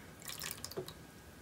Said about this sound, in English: underneath I put in here about, oh, I don't know, 1/2 inch to 3/4 inch of water